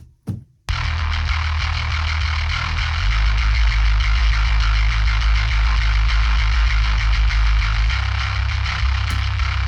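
Gritty, heavily distorted bass tone through a Darkglass amp-in-a-box pedal starts after a brief silence and sustains loudly, thick low end with buzzing grind.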